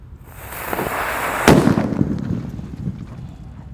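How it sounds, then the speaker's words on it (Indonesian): A banaspati firecracker bursts under a large barrel with a sharp, loud crack, followed by a rumbling, crackling tail that slowly fades, heard alone outdoors. "Kalau tidak ditutup dengan tong, seperti apa suaranya mercon banaspati ini."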